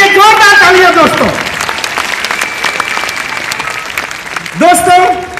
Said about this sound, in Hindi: एक उनके लिए जोरदार तालियां दोस्तों